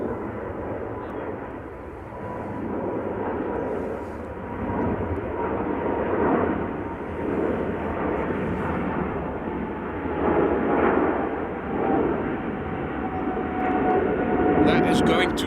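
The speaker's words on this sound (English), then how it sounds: "Got a triple taking off from center." A KLM Boeing 777 takes off from Amsterdam Schiphol, a broad, heavy engine roar that swells and pulses in waves as it passes at middle distance, with someone speaking over it.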